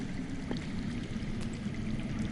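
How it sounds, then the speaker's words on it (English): Underground water flowing steadily in a Game of Thrones video game, a continuous low rushing stream with a faint trickle on top, no voices. "That's water. I hear water. From underground?"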